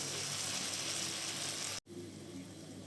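Spice and garlic paste frying in a pan for fish curry, a steady sizzle that cuts out for an instant near the end, then resumes slightly quieter.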